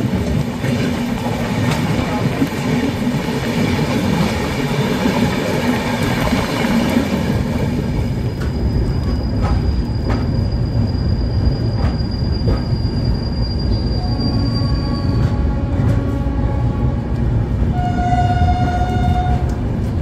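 A passenger train at New Jalpaiguri station runs loudly on the rails in a steady, continuous rumble, with high wheel squeals and tonal whines emerging in the second half.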